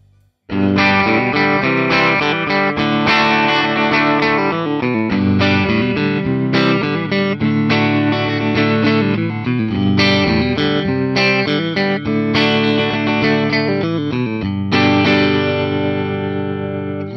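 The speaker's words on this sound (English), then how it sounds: "Let's go ahead, plug it in, and hear how this Tele sounds." A 1963-style Fender Custom Shop Telecaster electric guitar plays chords and riffs continuously, bright and fairly loud, with no talking.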